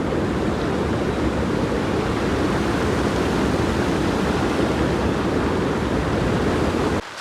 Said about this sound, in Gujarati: અમારે નદીમાં પાણી આવ્યું છે.